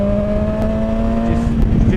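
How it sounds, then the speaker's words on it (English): Stock exhaust of a 2017 BMW S1000XR motorcycle gives a steady, loud droning growl at constant engine speed, with wind and road noise mixed in and no talking. "The stock exhaust actually gives a very nice note from it."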